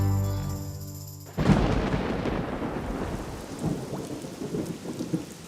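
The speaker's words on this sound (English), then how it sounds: "The rain isn't helping, and Cari's worried" Rain falling during an outdoor estate sale: after a brief musical tone, a loud, steady hiss of heavy rainfall begins, with a deep rumble at its start and irregular spatters continuing throughout.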